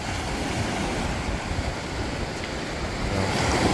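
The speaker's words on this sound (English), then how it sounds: "Waves are pretty strong today." Strong surf breaking against a rocky basalt shoreline in Michigan's Upper Peninsula, a steady, broad roar of rushing water with wind buffeting, fairly loud and continuous throughout with a slight swell toward the end, no voices.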